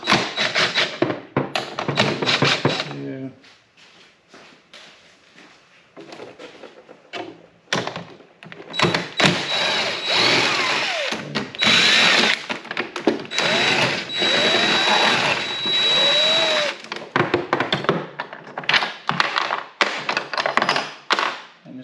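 Power tool backing 10 mm screws out of the speaker mounts on a Kawasaki VN1700, heard as close bursts of whirring and rattling with taps and thuds between them and a short quiet lull partway through.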